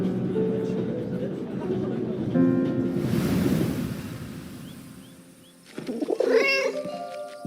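A cat meows in the World War I video game 11-11: Memories Retold, its calls rising clearly near the end over a washing, wave-like ambient bed.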